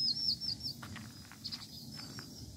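A small bird, not a sparrow, gives a few faint, high chirps near the start and again midway, distant and quiet over soft outdoor background noise.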